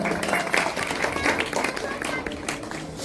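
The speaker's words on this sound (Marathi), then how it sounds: "ये बेटा, प्रियांसाठी एकदा जोरदार टाळ्या वाजवा." An audience at a village Shiv Jayanti celebration claps for a child, a steady patter of many hands with a voice speaking over it.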